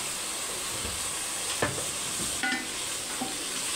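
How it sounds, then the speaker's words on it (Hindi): Garlic ginger paste fries in a pan for a kaleji (liver) dish, giving a steady, even sizzle with a few soft stirring scrapes, close and alone. "और इसको भून लेना है अच्छे से।"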